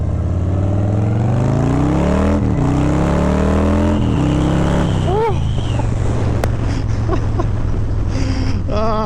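A 2025 Harley-Davidson Breakout motorcycle riding on a highway: loud, steady engine drone with rising and falling revs and heavy wind rush, constant and close.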